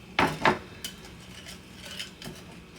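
A utensil stirs lumpy pancake batter in a bowl, giving two sharp clinks against the bowl's side up front, then lighter scraping taps and knocks at close range.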